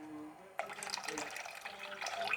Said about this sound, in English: I'm adding a bit of cold water.